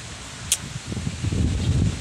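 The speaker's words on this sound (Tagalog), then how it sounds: "Sobrang lamig dito sa itaas, sobrang lakas ng hangin." Strong cold wind up high buffets the microphone with low rumbling gusts and rustling that build louder toward the end, after a brief sharp click.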